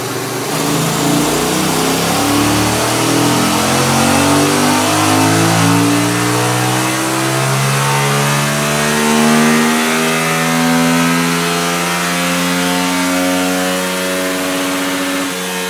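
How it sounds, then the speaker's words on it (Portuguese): A 70mm, 38hp prototype racing motorcycle engine revs hard in fifth gear, a loud continuous rising whine with climbing harmonics throughout, passing close by with no talking. "vai passar a moto agora"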